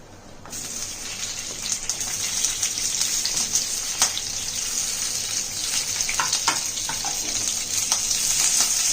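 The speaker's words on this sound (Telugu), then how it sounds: "నూనె వేసినాక పచ్చిమిరపకాయలు వేయించుదాం" Green chillies frying in hot oil for a coriander chutney, a steady loud sizzle with scattered crackles and pops throughout.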